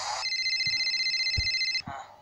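Telephone ringing in the Five Nights at Freddy's video game, a single steady electronic ring lasting about a second and a half, clear and prominent over a quiet background.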